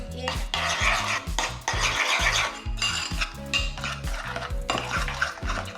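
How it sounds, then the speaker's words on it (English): Remoulade sauce with pickles, shallot, salt and pepper is stirred in a bowl. Steady, close utensil scraping and clinking runs throughout in an even rhythm. "And we mix."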